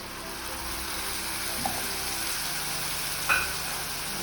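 Fish coated in white mustard paste sizzles steadily in a pan over low heat, a soft continuous frying hiss with a couple of brief louder spatters, no talking.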